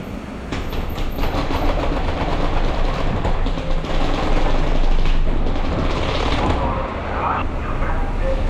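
Inside a moving train carriage on the ride home, a loud, continuous rumble mixes with rattling and clattering wheel noise, while voices murmur faintly beneath it.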